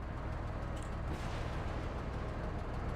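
Grenade launcher explosion in the sci-fi strategy game Menace, a loud, dense booming rumble that fills the whole stretch with no clear gaps.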